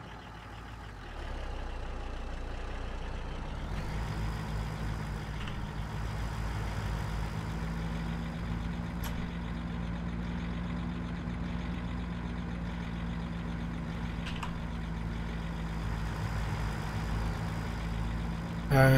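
A Land Rover's engine in Farming Simulator 17, a steady low drone with a slight rise in pitch as it pulls away, running loud and continuous with no talk.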